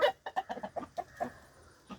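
A rooster and hens cluck in short, irregular bursts close by while feeding, then fall briefly quiet before one last cluck.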